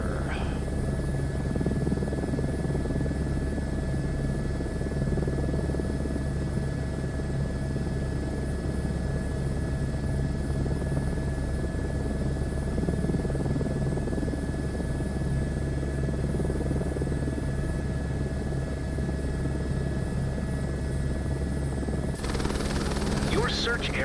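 A helicopter's rotor and engine drone steadily and loudly throughout in Microsoft Flight Simulator 2024, a constant whirring hum with no breaks.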